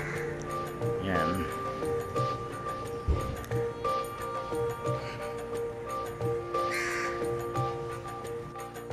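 Crows caw in Kota Damansara, Kuala Lumpur, several harsh calls scattered over the scene near and farther off, mixed with street background and a person talking over them.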